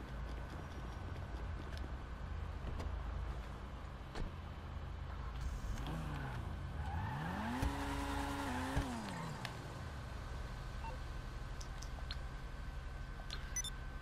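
A car driving in GTA V Online, heard as a faint, steady engine hum with a short rising and falling pass of revving tires in the middle, low in level and without talk.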